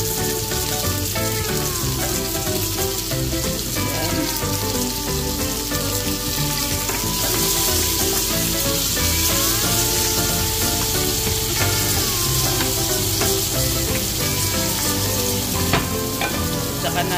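A single tomato frying in a hot pan for a spinach dish with sardines, sizzling loudly and steadily up close, with occasional stirring scrapes and no talk.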